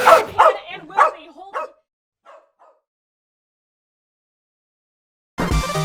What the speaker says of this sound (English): Shut that dog up!